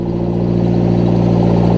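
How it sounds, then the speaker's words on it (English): A tractor engine idles steadily at close range, a loud, even mechanical drone with a firm low throb that holds without change throughout. "pull the tractor back into the crowded garage"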